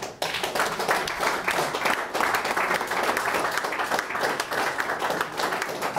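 A live audience at a civic town-hall discussion event in Ilmenau gives warm, sustained applause, dense many-handed clapping that rolls on evenly for several seconds, fairly close and with no talking over it.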